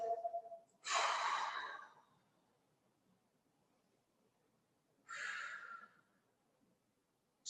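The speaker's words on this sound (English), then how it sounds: "Two more exhales" Two deep, breathy exhales come slowly from close by during a stretching and breathing session after a kettlebell workout, separated by a few seconds of near silence.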